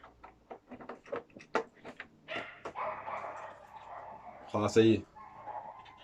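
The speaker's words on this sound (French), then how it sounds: "il y a les chiens qui gueulent" Several household dogs bark in short bursts, followed by one louder close bark, while someone talks over them.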